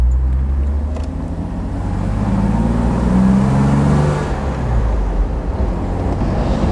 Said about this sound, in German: So, jetzt fahren wir noch ein bisschen schön Landstraße